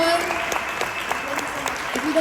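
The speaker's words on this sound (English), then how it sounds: "A round of applause." Audience applause at a comic con panel in Dortmund, steady loud clapping from a crowd in a hall with sharper individual claps standing out through the wash.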